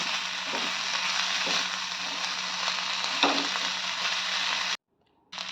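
Marinated chicken with chili, coriander powder and spices fries in a pan, a steady bright sizzle with occasional stirring scrapes, cutting off abruptly near the end.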